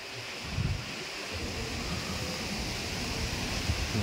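Steady, gusty wind roars against the microphone outdoors at a property in Indang, Cavite, Philippines, a constant rumbling rush with no voices.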